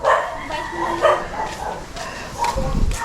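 A dog barks several times in a row, loud and close, with whimpering yips between the barks.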